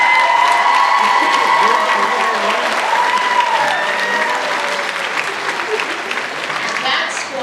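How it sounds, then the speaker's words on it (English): A graduation ceremony audience applauds the instructors, sustained and fairly loud clapping with a few cheers, while a voice talks over it. "Please give them another round of applause."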